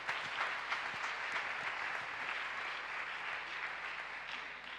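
A church congregation breaks into loud, sustained applause that fills the room with dense, steady clapping from many hands.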